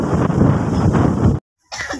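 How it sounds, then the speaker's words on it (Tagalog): Strong wind gusts roar across a mango farm in the Philippines, buffeting the microphone loudly and continuously before a brief silent gap and renewed blustering. "Malakas ang hangin kaya nagpapalayo."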